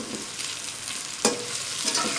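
Vegetables fry in a pan with a steady, bright hiss, broken by one sharp clatter of a utensil midway.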